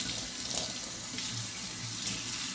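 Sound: tap water rinsing a stainless steel sink

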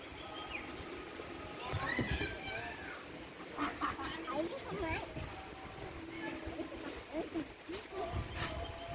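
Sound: birds, likely ducks, quacking

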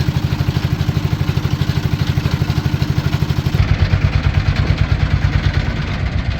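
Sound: engine of a small fishing trawler boat

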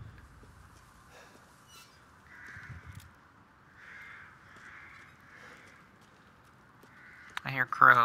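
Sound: crows cawing in video game Resident Evil Village

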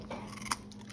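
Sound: pet crunching a carrot

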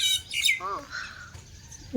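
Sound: birds calling in the morning

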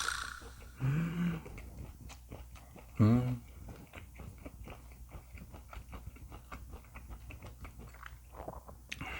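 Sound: chewing thinly sliced Korean pork neck

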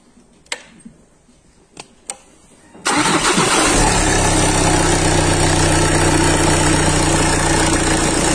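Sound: car engine starting

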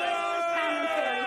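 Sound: crowd of Trump supporters chanting

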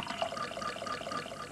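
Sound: sampled sound of pouring water played on Fairlight CMI

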